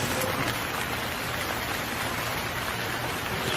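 Heavy rain in a cartoon pours as a dense, steady hiss of drops drumming on a surface, uniform and close for the whole stretch, with no talking.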